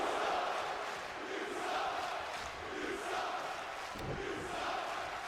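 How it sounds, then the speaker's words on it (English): Wrestling crowd at a live independent show jeering as a knee is dropped onto an opponent's knee: a sustained, distant roar of many voices with rising and falling swells and a brief thud near the end. "As the crowd are telling John P how they feel about it as he is dropping the knee onto the knee"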